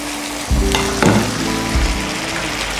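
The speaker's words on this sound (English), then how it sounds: "Go in with some wine. A little bit more. And you just want to cook that out." Wine hits a hot risotto pan of toasted rice and cooks off, a loud close sizzle that surges as the liquid lands and then settles into a steady hiss.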